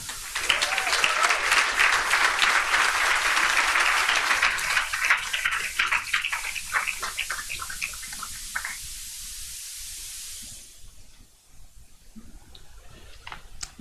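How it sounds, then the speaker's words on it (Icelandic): An audience at a scouting assembly applauds loudly and steadily, the dense clapping fading after about ten seconds to a few scattered claps. "gefið honum gott klapp"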